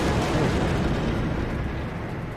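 An explosion in the Star Trek video game gives a loud, dense rumbling roar with a crackling burst texture, sustained and gradually fading slightly over a couple of seconds, with no speech.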